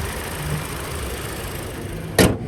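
A 2019 Toyota Corolla Ascent Sport hatchback idles under its open bonnet with a steady, even engine hum, and a short louder thud breaks in near the end.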